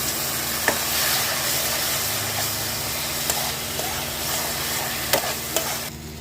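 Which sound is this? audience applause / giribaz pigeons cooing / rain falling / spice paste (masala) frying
spice paste (masala) frying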